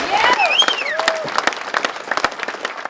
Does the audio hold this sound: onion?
no